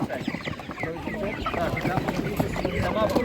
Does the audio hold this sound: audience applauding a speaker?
no